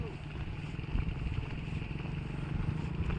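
Motorcycle engine running steadily near a brick kiln, a continuous rough drone with clattering texture, with faint voices in the background.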